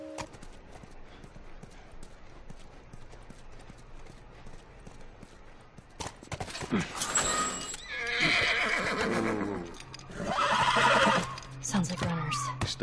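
A horse in The Last of Us whinnies loudly twice over a soft ambient game backdrop, with clopping hooves and a low hum in the background.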